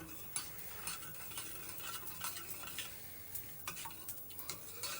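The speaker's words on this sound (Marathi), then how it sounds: "आता एका स्पूनच्या सहाय्याने याला छान असं मिक्स करून घेऊ" A spoon mixes seven or eight sliced bananas with half a spoonful of turmeric in a bowl, making soft, quick, uneven scraping and clicking strokes at close range, fairly quiet, with no speech.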